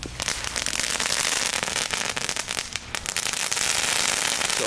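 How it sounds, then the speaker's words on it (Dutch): Homemade firecrackers with a well-finished fuse crackle in a dense, loud, continuous burst of rapid pops and snaps from close by. "Zo, maar echt goede knetter hoor"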